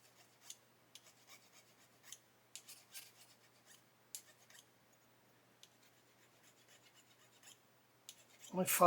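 Short raspy filing strokes scrape across a plastic sprue nib on a 1/8 scale Pocher Lamborghini Aventador model in a quick irregular rhythm, close and quiet, with a louder rustling burst at the end.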